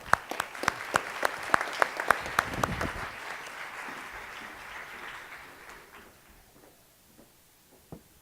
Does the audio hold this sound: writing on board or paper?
no